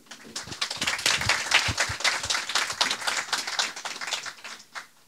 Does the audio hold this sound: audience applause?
yes